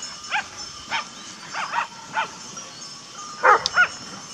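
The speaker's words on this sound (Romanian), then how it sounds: "aude câinii la noi ce-i acolo sus" Romanian shepherd dogs barking on a mountaintop sheep pasture: a scattered series of short barks at moderate distance, fairly faint, with quiet pauses between them and no talking.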